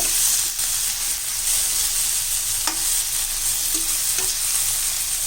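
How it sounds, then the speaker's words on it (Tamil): Steady loud sizzling of brinjal frying in oil, with occasional light scrapes of a spoon stirring the pan. "இது இப்போ இந்த கத்திரிக்காய் நல்லா வதங்கிடுச்சு"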